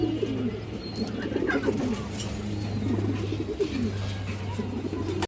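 Silver flying pigeons, a running breed kept by a fancier, coo steadily in a close repeated rhythm, with other birds calling around them in a loft setting.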